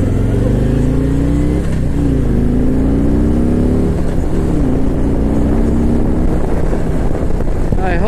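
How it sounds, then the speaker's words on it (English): A 2019 Harley-Davidson Street Glide Special with a Milwaukee-Eight engine revs and accelerates, its deep, throaty rumbling exhaust loud and close, pitch rising and falling through gear changes. "I hope you guys could hear the Milwuakee-eight and that beautiful exhaust note right there"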